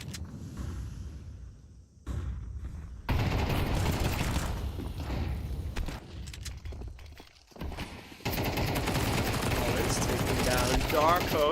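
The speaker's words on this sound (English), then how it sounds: "These SMGs and pistols are a whole bunch of damage." SMG and pistol gunfire in a Counter-Strike esports match, a dense run of rapid shots and in-game action that cuts in and out, with crowd and game noise around it.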